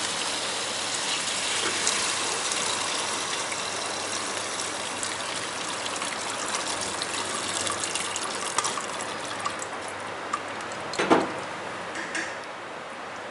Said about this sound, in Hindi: अब इसमें मैं यखनी ऐड कर रही हूँ।